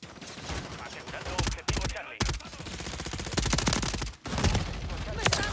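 Rapid automatic gunfire from the video game Modern Warfare III rattles in dense bursts with brief pauses, loud and close, with a voice talking now and then.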